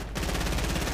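Rapid automatic gunfire in Fortnite, a dense run of shots firing continuously and fairly loud for the whole moment.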